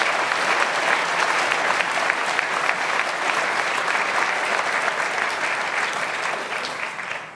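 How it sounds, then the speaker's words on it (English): Sustained audience applause at a poster prize ceremony in Veldhoven, steady and dense throughout, many hands clapping together, tapering slightly at the very end. "I think they deserve really an applause for all their efforts."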